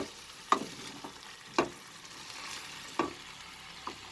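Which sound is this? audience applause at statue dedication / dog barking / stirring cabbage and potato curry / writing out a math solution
stirring cabbage and potato curry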